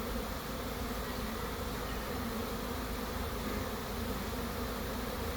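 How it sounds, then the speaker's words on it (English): Dense, steady buzzing hum of a swarm of honey bees flying in close by, continuous and loud throughout with no voices. "Just watching swarms come in,"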